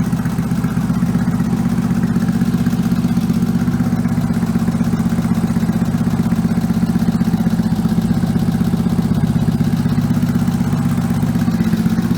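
An old Fiat 126p engine fitted with a turbo and two carburetors idles steadily with a continuous low hum and a faint rapid tapping clatter running throughout, close and unchanging.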